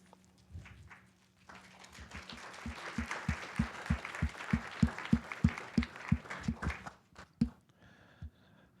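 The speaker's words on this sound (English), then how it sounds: "Let's get the clapping going a little bit more after a thunderstorm." Audience applause at a company town hall meeting, a dense wash of clapping that swells and peaks with sharp rhythmic claps in unison before fading out, with a few scattered claps at the end.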